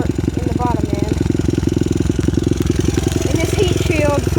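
2002 Honda XR100R motorcycle with an aftermarket exhaust held against the rev limiter, a loud rapid stuttering engine pulse close by, with people talking over it.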